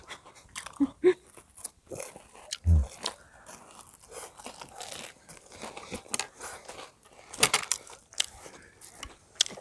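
Crispy mini hotdog fried in a small cauldron and bitten in one mouthful, close crunching bites and chewing with scattered crackles, set among quiet speech and rustling.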